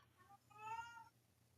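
A cat meows faintly in the background, a short drawn-out call rising and falling over low room hum, with no one talking.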